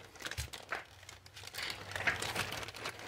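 Plastic phone case packaging for a Motorola G Stylus 5G being ripped open by hand, with close crinkling, crackling and tearing in irregular bursts over a few seconds.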